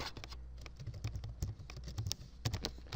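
Keys clatter as a folder name is typed on a computer keyboard, quick uneven taps with a few heavier strokes, close and fairly quiet, no voices.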